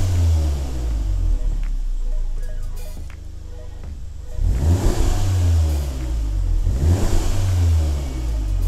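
A VW/Audi MQB 2.0T turbo engine revs repeatedly with a breathy intake whoosh rising and falling over a steady rumble, close and loud, in two or three surges.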